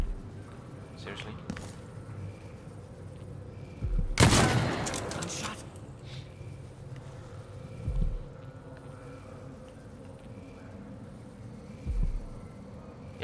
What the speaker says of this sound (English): Yeah, gunshot.